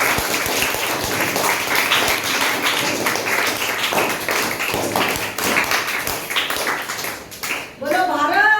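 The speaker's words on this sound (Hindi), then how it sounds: "तालियां तो बजाओ।" Crowd of children clapping in sustained applause at an Indian flag-hoisting ceremony, dense and steady for several seconds with voices mixed in, ending in a brief rising call.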